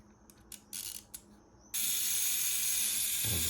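A FED 3 film camera mechanism gives several short ratcheting clicks up close, followed by a loud, steady hiss that continues to the end.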